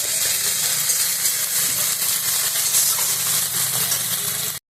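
Garlic, onion and ginger paste frying in a pan over lowered gas, a steady dense hiss and sizzle throughout, close and fairly loud, cutting off abruptly at the very end.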